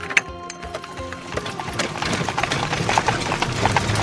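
Horse hooves clip-clop in a steady, even rhythm as a horse draws a wagon, fairly close and clear, with a soft tonal backing underneath and no talking.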